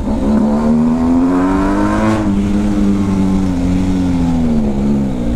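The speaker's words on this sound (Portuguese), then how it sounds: "Olha o barulho da moto" A motorcycle engine drones loudly and close by, its pitch rising briefly then settling into a steady, throaty hum.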